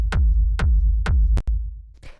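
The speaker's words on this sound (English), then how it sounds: "So the first sound we've got here is the kick." Techno kick drum sample shaped with EQ and saturation, three deep punchy thumps in steady rhythm followed by a quicker fourth hit, each with a long low boom tail, loud and alone with a brief noisy swish at the end.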